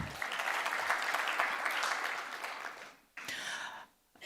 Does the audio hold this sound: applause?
yes